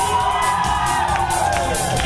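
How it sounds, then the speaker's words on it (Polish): Girls in a concert audience screaming, a loud, continuous, high-pitched crowd roar blended with live music throughout. "Uwaga, dziewczyny krzyczą!"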